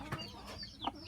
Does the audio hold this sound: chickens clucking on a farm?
yes